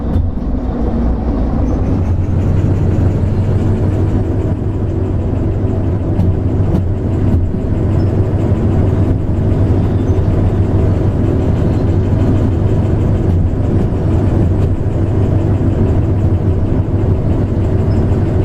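A locomotive engine runs in the train-driving game Derail Valley 2, a heavy, constant low rumble with steady mechanical drone and faint clanks, continuous and alone without talk.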